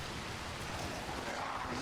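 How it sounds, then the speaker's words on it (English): Heavy rain pours steadily in the Dying Light The Beast video game, a dense, loud, hissing downpour with no break. "That's that heavy rain, you know."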